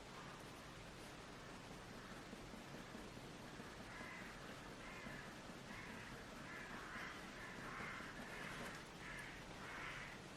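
Crows caw outdoors at a distance, a series of faint repeated calls under a constant hiss of background noise.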